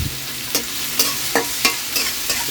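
Fresh shrimp stir-fry with vegetables in chili paste oil, a constant hiss broken by regular spatula scrapes and tosses about every half second, close and without talk.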